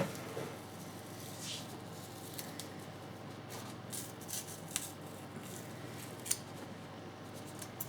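An airbrush masking stencil is peeled off a freshly painted bullet-hole effect, giving faint, sporadic scratchy rips and soft crackles in a quiet room.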